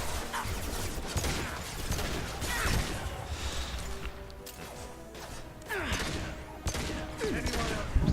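Heavy hand cannon gunfire in Mass Effect 2 booms repeatedly in quick bursts amid crashes and mechanical clatter, loud and close, with occasional voices underneath.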